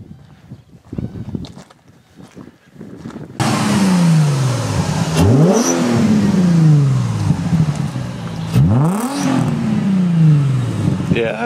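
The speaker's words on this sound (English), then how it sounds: "It's a Chappie's Banks muffler. It's a diesel muffler" Diesel truck engine with a small Banks diesel muffler, quiet idle that suddenly becomes a loud close rumble, with two quick revs rising and falling in pitch over a steady drone.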